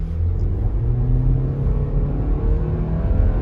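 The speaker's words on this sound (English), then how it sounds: "It struggles a little bit for acceleration, gets a little loud, but you get good speed." A 2022 SUV accelerates in normal driving mode, heard from inside the cabin as a steady, loud engine rumble and road drone that holds throughout with no one talking.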